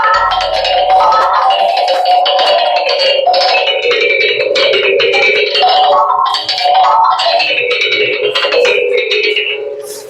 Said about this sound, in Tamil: இது பேர் பாத்தீங்கன்னா வந்து ரப்பிங் ஸ்டோன்.